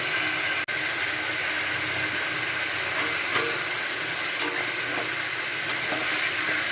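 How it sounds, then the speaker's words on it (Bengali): Chicken fries in a pan next to frying potatoes, giving a steady, close hiss and sizzle with a few light clinks of stirring and no talking. "এই যে চিকেনটাকে ভাজছে, আর এই পাশে আলু ভাজা বসিয়েছে।"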